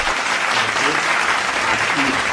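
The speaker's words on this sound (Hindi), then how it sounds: "स्वागत है भावुक जी का जोरदार तालियों के साथ" A burst of vigorous clapping welcomes a poet at an online Hindi poetry gathering; it is dense, continuous and fairly loud throughout the short stretch, with no voices over it.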